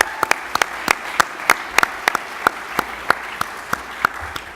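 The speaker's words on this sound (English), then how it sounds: "a big round of applause" Sparse, individual hand claps scattered across a few seconds, sharp and distinct rather than a dense roar, like a small group applauding at a business challenge event.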